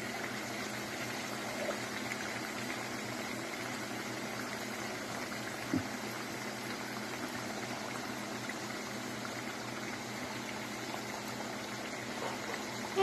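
Fried scones browning in a pan, giving a steady, even bubbling sizzle of hot fat that stays at one level throughout, with a faint tap partway through.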